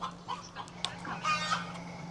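Chickens cluck in a backyard bird house in a town home. The clucks are close and fairly quiet over a steady low electrical hum, with a sharp peep near the middle.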